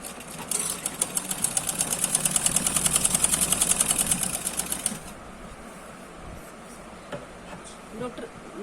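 A sewing machine stitches a suit in a fast, loud, rhythmic burst of needle clatter for several seconds, then stops, leaving quiet room noise and faint movements.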